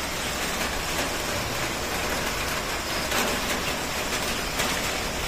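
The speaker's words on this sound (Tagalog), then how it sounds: "Umuulan." Rain falling outdoors as a steady, even hiss of broadband noise that continues unbroken throughout, with no talk over it.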